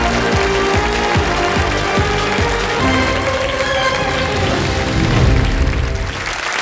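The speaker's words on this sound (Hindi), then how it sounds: "तालियां बज जाएंगी" Studio audience applause on a television quiz show, a dense, steady roar of many hands clapping that continues loud and unbroken throughout.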